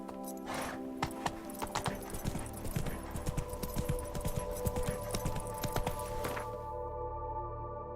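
Roach, a horse in The Witcher 3: Wild Hunt, trots in steady rhythmic hoofbeats, close and fairly loud over a game ambience, with the clip-clop stopping near the end as the horse halts.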